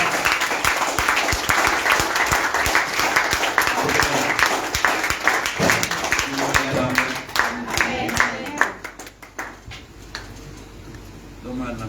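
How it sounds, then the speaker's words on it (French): A church congregation applauds and cheers to welcome a bishop, with sustained crowd clapping and a voice over it that thins out toward the end. "Sous tes ovations, sous tes applaudissements"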